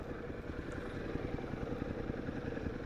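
A Suzuki motorcycle engine idles steadily after starting, a close, continuous low rumble with fine rapid pulsing throughout.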